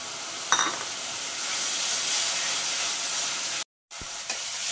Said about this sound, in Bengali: মশলাটা বারবার করে 2-3 বার জল দিয়ে কষাতে হবে।